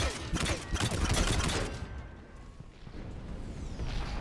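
Rapid gunfire barrage in Mass Effect 3, a dense crackling volley of shots for about a second and a half, then fading into lighter combat noise and distant pops.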